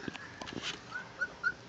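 A three-week-old pit bull puppy lets out a few short, high yips and whimpers at close range, scattered across a brief moment with quiet gaps between them.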